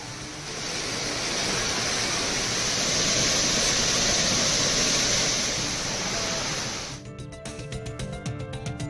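Hogenakkal waterfall on the Kaveri river roaring in heavy flow, a loud steady rushing wash that swells and then cuts off abruptly, followed by fainter background noise.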